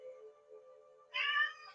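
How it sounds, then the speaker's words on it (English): A pet cat lets out a single clear meow near the end, loud and close, following a stretch of quiet room tone with a low steady hum during a yoga session. "I have my Grayson cat here."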